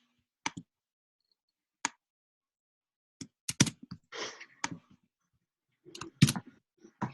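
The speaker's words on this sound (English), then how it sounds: "You just got to keep clicking that add option so it gives you another option to add." A computer mouse clicks in sparse, crisp single and double clicks in a quiet room while a Google Forms survey is being built, with a faint breath between them.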